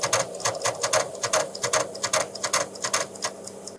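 Rapid, uneven mechanical clicking and chattering from the faulty floppy disk drives of a 1977 North Star Horizon computer at startup, loud and close with a steady hum underneath.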